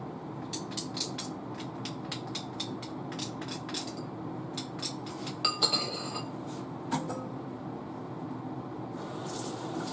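A spoon clinks against a bowl while cottage cheese cream sauce is mixed by hand, giving a run of light, rhythmic taps and scrapes up close, with brief clattering in the middle.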